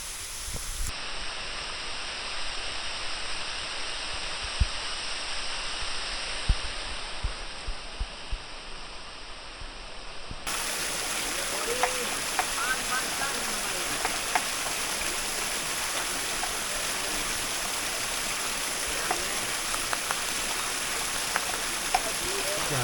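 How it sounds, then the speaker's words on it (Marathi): Waterfall at Chandkada in Gujarat, a steady broadband rush of falling water that grows louder and denser partway through and continues without a break. "तर बघितला असेल तुम्ही आमचा धबधबा नक्कीच"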